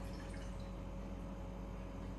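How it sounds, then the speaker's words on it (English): Lukewarm water pours steadily into a large bowl for sweet pancake dough, a continuous close liquid wash lasting the whole moment with no talking. "in a large bowl, you take your lukewarm water"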